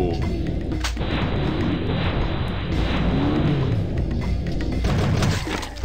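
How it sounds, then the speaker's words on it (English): Plasma weapons firing in the flash game Creative Kill Chamber, a loud continuous roar of blasts and booms with a few sharp cracks, heard without talk. "Killed 5+ enemy guards with plasma weapons."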